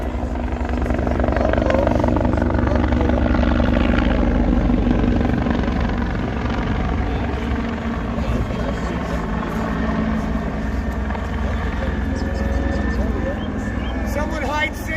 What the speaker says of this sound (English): There's helicopter.